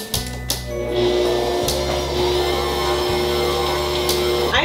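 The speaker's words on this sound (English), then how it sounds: "I'm just using this stand mixer for time's sake for this video" A stand mixer beats pumpkin chocolate chip cookie dough with oats, giving a steady close motor whir with a low rhythmic thump that changes pattern every second or so. Nobody talks over it.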